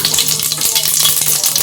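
Cumin seeds sizzling in hot oil while tempering Maharashtrian masale bhat, a close, loud, steady crackling fry with no voices.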